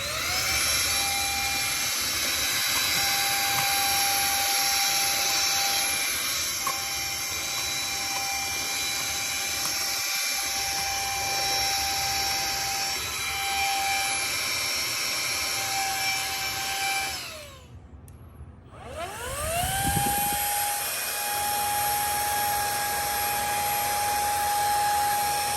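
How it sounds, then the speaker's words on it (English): Brigii M1 handheld vacuum picking up debris with its blower attachment: a loud, close, steady motor whine that cuts out briefly, then spins back up and runs on. "And here it is vacuuming debris along with the blower attachment."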